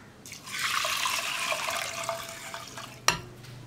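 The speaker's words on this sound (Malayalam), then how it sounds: "ഇതിലേക്ക് ഞാനൊരു 4 കപ്പ് വെള്ളം ചേർക്കാൻ പോവുകയാണ്." Water is poured into a pot of soaked green gram and rice for a Kerala-style payaru kanji, making a steady close splashing rush that runs for about two and a half seconds and ends with a sharp knock.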